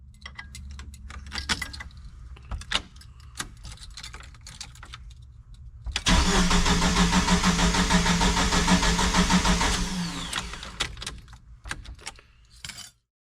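A Jeep engine (YJ, XJ or TJ) turns over after key clicks and jangling, then runs loud and close for about four seconds before fading back to quieter clicking.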